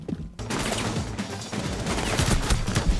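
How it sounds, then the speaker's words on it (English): Sustained gunfire in Rainbow Six, shooting through a wooden box: a loud, steady fusillade of rapid shots that starts abruptly and keeps going, with no voices over it. "I'm shooting through the wooden box, yet it doesn't fucking die."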